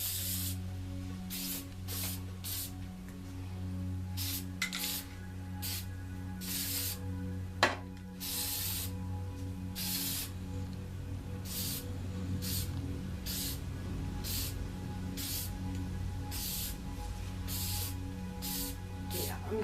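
Gray paint sprayed from a spray can, a series of loud, close hissing bursts of varying length in irregular rhythm, separated by short pauses, with a low steady hum underneath.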